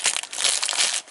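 A small plastic bag of costume jewelry crinkles and rustles as it is handled in an abandoned house, with dense, close crackling bursts running steadily for about a second with no voices.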